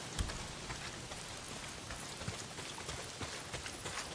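Steady rain pours down in a Days Gone game scene, a dense even hiss with scattered drop patters and a couple of brief louder taps, no voices.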